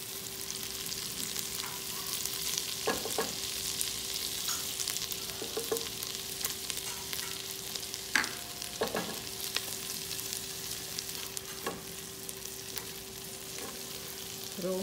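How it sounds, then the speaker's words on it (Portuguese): Minced garlic fries in melted butter in a pan, a soft, steady sizzle with occasional clinks and scrapes of stirring, and no voices. "Já vou fritando nessa manteiga o alho."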